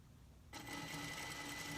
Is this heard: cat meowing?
no